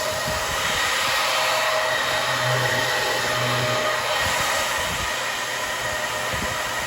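A loud, constant whooshing roar of a small 13-volt electric fan drawing 2.8 amps at full speed, steady throughout with a faint low hum underneath.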